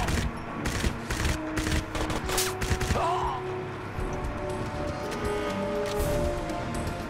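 Rapid bursts of submachine gun fire in the first-person shooter game Crysis, loud, with overlapping gunshots over about three seconds, then a lower rumbling game ambience.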